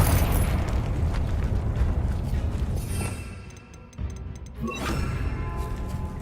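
A Confringo spell blast in the video game Hogwarts Legacy. It opens with a loud rumbling explosion that fades into a softer tail, and a second burst with crackling debris follows.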